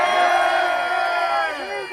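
A crowd at an outdoor street demonstration cheers and shouts together in a loud, dense roar that slowly tapers off over a couple of seconds, with a few voices rising above the mass.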